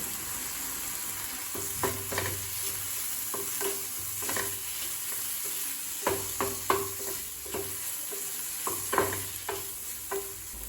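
An onion and tomato masala with turmeric, chilli powder and salt frying in a pan for egg dosa, a constant sizzle with clusters of spoon scrapes and taps as it is stirred, close and alone.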